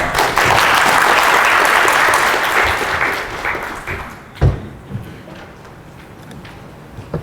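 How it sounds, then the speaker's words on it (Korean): An audience gives a presenter a big welcoming round of applause at a talk, loud and full at first, then thinning into scattered claps, with a few knocks and footsteps as it dies away. "큰 박수 부탁드리겠습니다."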